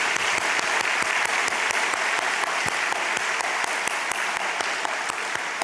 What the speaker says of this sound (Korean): 우리 뜨거운 박수로 한번 보내주겠습니다.